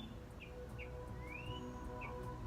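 A small bird outdoors beside a dentist's office gives several short, high, faint chirps with one longer rising call, heard over a steady low hum of background noise.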